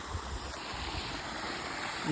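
Steady gurgling trickle of groundwater welling up continuously from the ground, soft and close, with no voices.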